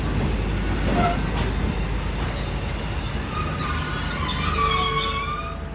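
A Thai southern line special express train with extra cars runs at night. Its wheels squeal high and shrill over a steady rolling rumble for the whole stretch, growing louder near the end before easing off.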